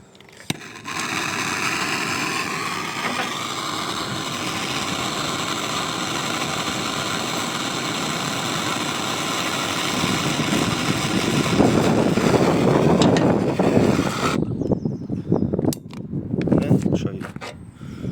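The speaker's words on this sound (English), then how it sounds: "I'm going to heat up with my blowtorch, then the screwdriver, and just melt that little tab there" A blowtorch roars steadily while heating a screwdriver to melt a plastic tab on a Walbro 255LPH fuel pump being fitted to a Toyota MR2 Mk3 Roadster Spyder, a loud continuous hiss that grows rougher and louder midway before sputtering out.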